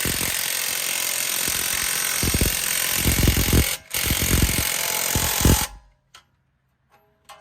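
Power tool driving a strut nut tight on a 2013 Dodge Journey 3.6 SXT front strut assembly, a loud rattling impact burst with hammering pulses, a brief pause, then more rattling before it stops into near silence.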